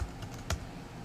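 Light typing on a computer keyboard, a few quiet separate keystrokes in about a second with a soft click near the start and another in the middle.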